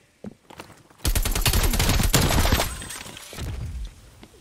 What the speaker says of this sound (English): I'm glad they actually let me shoot something.